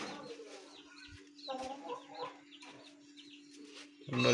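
A home-bred aseel rooster clucks in short bursts over a steady low hum, with a louder burst of sound at the very end.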